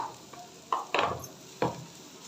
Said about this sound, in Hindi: इसको मिक्स कर देंगे।